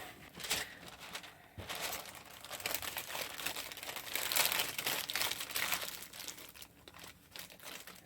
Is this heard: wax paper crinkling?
yes